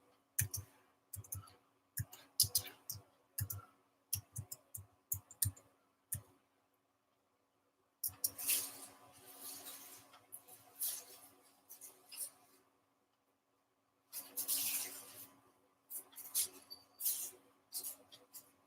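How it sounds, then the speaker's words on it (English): A computer keyboard and mouse are used in bursts of quick, quiet clicks and key taps, separated by brief pauses, close to the microphone in a quiet room. "I'm going to type in something here"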